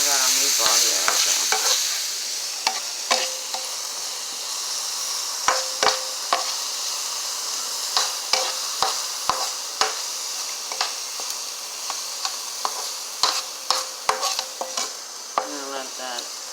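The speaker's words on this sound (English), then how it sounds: "So we're just going to saute them just a little bit to get some flavor." Meatballs sizzle steadily in a pan, a constant hiss with repeated sharp clicks and taps of a utensil stirring and turning them, close and moderately loud.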